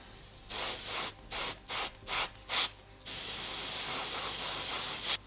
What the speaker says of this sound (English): airbrushed more times this side of the face to create a bit of contrast